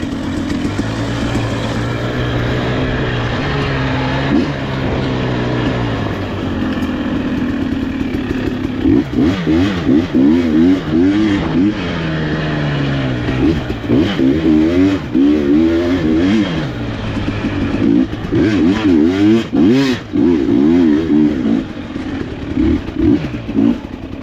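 A 2020 KTM 300 XCW two-stroke dirt bike fitted with an FMF Fatty exhaust revs and pulls through the gears close up, its raspy engine note rising and falling repeatedly over a rough, clattering ride with no talking.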